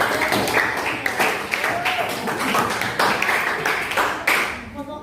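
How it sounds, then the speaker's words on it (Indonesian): A classroom audience of students claps after a group presentation in a Tahsin lesson, dense steady applause throughout that fades out near the end. "kita beri tepuk tangan dulu untuk yang sudah"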